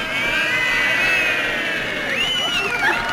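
Spectators at a golf event cheer and whoop in a continuous, loud wash of crowd noise, with a few rising shouts standing out near the end.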